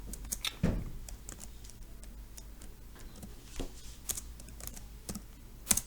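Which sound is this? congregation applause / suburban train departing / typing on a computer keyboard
typing on a computer keyboard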